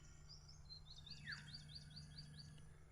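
Faint, repeated high bird chirps in a quick rhythmic series, heard from a distance over a low steady hum in a quiet, cold outdoor setting by a lone house in Boac, Marinduque.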